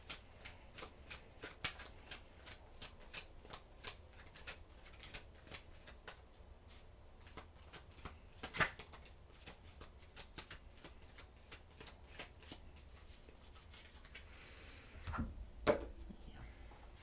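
A deck of tarot cards is shuffled by hand in a close, quiet setting, with a steady run of crisp riffling flicks and soft card slaps repeating for many seconds, plus a couple of louder taps near the end.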